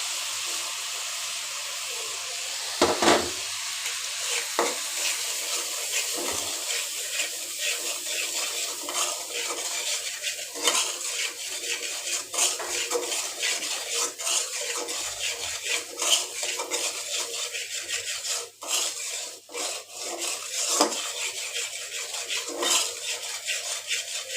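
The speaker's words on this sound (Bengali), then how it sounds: "তো দেখতে পাচ্ছেন আমার মশলাটাকেও ভাজা হয়ে গেছে" Salt, green chillies, dried chillies and turmeric fry in oil in a pan, a steady soft sizzle under repeated scraping and clinking of a spoon against the pan as the spices are stirred.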